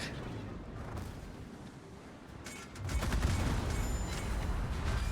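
Guns of the German battleship Bayern firing back in a naval video game, heard as a sudden heavy rumbling barrage after a quieter stretch of ambient noise, with crackling shots layered over a deep roar.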